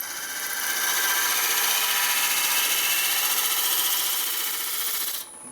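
Wood lathe turning a maple burl bowl, a close, steady whirring scrape of a cutting tool on spinning wood that holds for about five seconds and then stops abruptly.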